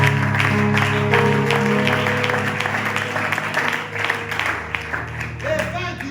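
A church congregation breaks into sustained applause that fills the room, a dense wash of many hands clapping together with crowd murmur underneath, easing off slightly toward the end.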